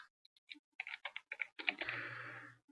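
Quick bursts of keystrokes on a computer keyboard while entering a word into an Excel 2010 dialog, close and fairly quiet, a run of separate clicks ending in a low sustained tone.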